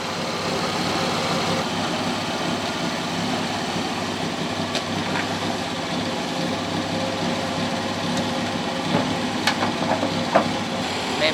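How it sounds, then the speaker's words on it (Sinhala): A classic Triumph car's four-cylinder engine idles with a steady, even low rumble, close and continuous, with a few faint clicks and knocks over the top. "මේකේ තියෙන්නේ සිලින්ඩර් 4ක් තියෙන 4 සිලින්ඩර් එන්ජින් එකක්."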